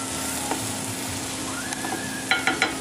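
A light vegetarian sauce simmering and sizzling in a pan, a steady close bubbling hiss throughout with a few faint taps and a quick run of three utensil clicks near the end.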